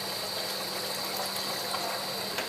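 Water pours steadily into a cooking pot to cook rice for Hyderabadi chicken dum biryani, a continuous close gushing and splashing stream with no pause.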